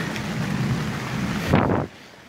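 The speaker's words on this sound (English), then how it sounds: "Rain is pouring." Rain pours onto a bushcraft yurt made for bug-out shelter, a dense steady hiss with a low rumbling undertone, rising briefly into a louder gust-like surge before dropping off.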